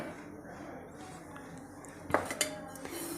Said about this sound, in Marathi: हे मेथी दाणे भाजून घेणार आहे